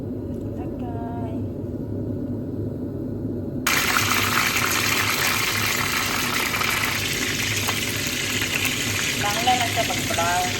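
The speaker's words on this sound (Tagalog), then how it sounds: "Mag-fry na ko sa kuang chicken. Lagyan ng mantika." Chicken pieces frying in cooking oil, a steady broadband sizzle that jumps louder partway through as more goes into the pan, with faint bubbling throughout.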